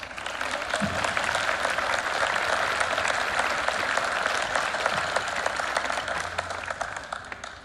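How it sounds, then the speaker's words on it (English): An audience at a high school band holiday concert claps steadily for several seconds, a broad, even wash of many hands at moderate level that swells and then eases off slightly toward the end. "I want to give them a round of applause."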